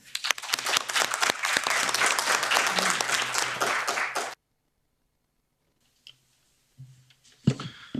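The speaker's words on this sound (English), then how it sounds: "I ask for a small applause for everyone who made an intervention" Audience applause fills a parliament meeting hall, a dense burst of many hands clapping for about four seconds before stopping abruptly, followed by near silence and a few faint shuffles and a brief voice.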